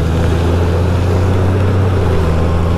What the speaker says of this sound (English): it's revving much, much higher to get into fifth gear in rain mode than it does in econ mode